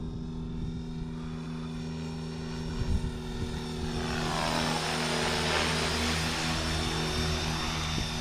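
A Blade Fusion 360 RC helicopter flies stunts and flips. Its rotor gives a continuous buzzing whir that swells and shifts in pitch as the helicopter maneuvers, fairly close and with no talk.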